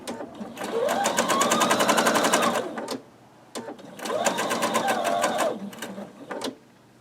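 A sewing machine stitches a quilt block seam for a Lemoyne Star block, running in two steady bursts of rapid, even needle strokes, each lasting about two to three seconds and separated by a brief pause, close and clear with no talk.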